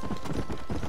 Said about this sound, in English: Get out of here, horse.